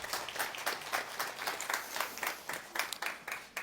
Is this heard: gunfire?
no